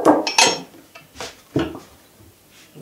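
A knife chops thin noodles from rolled-out kefir dough on a board, giving a few sharp clattering strikes with quieter scraping between them, close and fairly loud.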